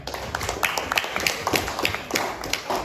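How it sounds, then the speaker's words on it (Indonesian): A class of students claps their hands together in a classroom, a busy patter of overlapping claps running steadily throughout. "Tepuk tangan."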